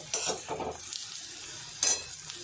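Dry masala with sesame and onion roasting in a pan over a wood-fired village stove, stirred in close, brisk scraping bursts over a soft sizzle, with a loud scrape near the end and no speech.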